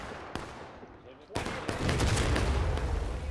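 In the Civil War game War of Rights, an artillery piece fires with a sharp, heavy boom, followed by a dense rumble of distant gunfire and battle noise across a public match at Piper Farm.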